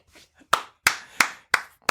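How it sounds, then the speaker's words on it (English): A small studio group claps in five sharp, separate bursts spaced about a third of a second apart, close and fairly loud, with no talking over it. "We're standing up and giving him the clap"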